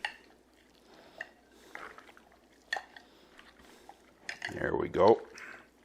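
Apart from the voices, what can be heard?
mixing teriyaki jerky meat with slurry in a bowl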